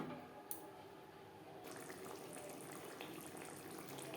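Water is poured into a spice bowl to rinse it for a Bengali doi pabda curry, a soft, faint trickle and splash that grows fuller partway through and continues steadily.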